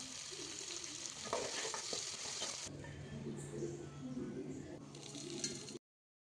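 Tomatoes, coconut and curry leaves sautéing in a pan, with a steady close sizzle and frying hiss and occasional stirring scrapes running throughout until it cuts off abruptly.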